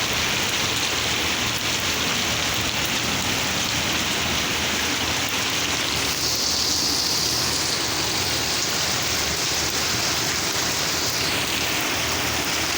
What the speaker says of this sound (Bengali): প্রচুর পরিমাণে বৃষ্টি হচ্ছে